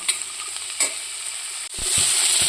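Food fries in a pan with a few clinking stirs, then the sizzle surges loud and bright as more goes into the hot oil, close and without voices.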